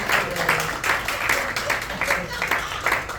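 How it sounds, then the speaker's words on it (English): Audience at a Memphis magic show night applauding, a dense steady patter of clapping hands at moderate level with some voices mixed in. "a big round of applause for Gina"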